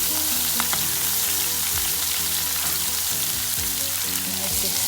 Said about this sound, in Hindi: अब मैं चिकन ऐड करूँगी।